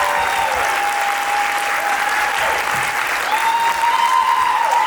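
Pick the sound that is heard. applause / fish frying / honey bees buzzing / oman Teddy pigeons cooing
applause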